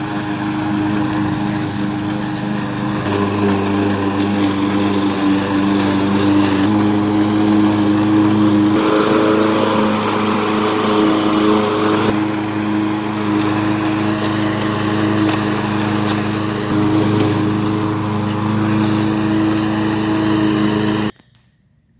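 A Husqvarna 129L string trimmer's two-stroke engine runs steadily, loud and close, holding a constant buzzing drone for about twenty seconds before cutting off.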